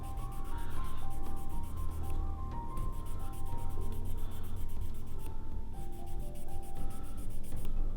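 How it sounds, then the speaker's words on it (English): A model battleship main turret being sanded with 1000 grit sandpaper, giving steady close rubbing strokes in a continuous rhythm, with only brief pauses. "I can finish that off with the 1000 grit."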